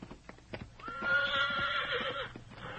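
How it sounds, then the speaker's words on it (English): A horse gives one long, loud neigh in an old-time radio drama, with a rising and falling whinny held for about a second amid soft clip-clop hoofbeats and light rustling. "Nice looking horse you got there."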